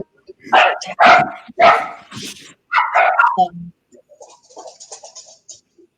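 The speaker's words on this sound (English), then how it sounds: "That is an actual dog." A dog barks several times in loud, close bursts, followed by softer yips and whimpering.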